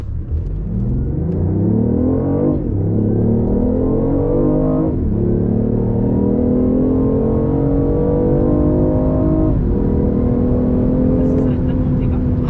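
A BMW i8 accelerating hard, its engine note climbing steadily through several gears with clear shift dips, loud and close from inside the cabin, the rising whine continuing to build.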